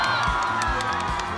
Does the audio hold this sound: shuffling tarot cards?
no